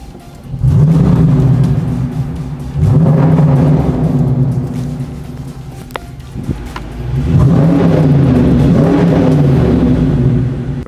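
A parked car's engine revs in three long bursts, each rising and settling with a throaty mid-low growl, separated by brief idle pauses, close and loud with no talk.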